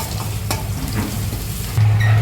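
Chopped garlic sizzles in oil in a pan, a close, steady crackling fry with occasional light stirring scrapes and a brief louder burst near the end.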